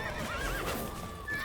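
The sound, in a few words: horses neighing and galloping in video game The Witcher 3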